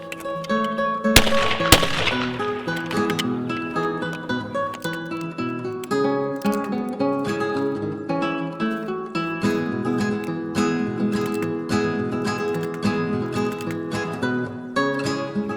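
A 20 gauge shotgun fires reloaded Federal shells, with two sharp, loud bangs close together near the start, followed by a steady tonal background.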